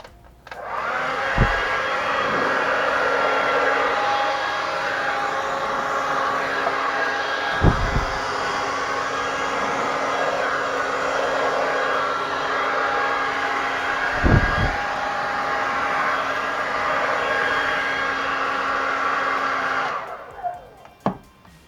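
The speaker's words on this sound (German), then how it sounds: "Jetzt nehme ich wieder einen ganz normalen Föhn, also kein Heißluftföhn, sondern einen normalen Föhn." An ordinary household hair dryer blows steadily at medium to high setting over fluid acrylic paint, a loud continuous whoosh lasting about twenty seconds with a few soft knocks before it cuts off.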